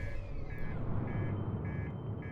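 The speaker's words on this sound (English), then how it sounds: "I hate beeping noises" Repeating electronic beeps in the Outer Wilds video game, short evenly spaced tones about every half second over a low rumbling background, with no one talking.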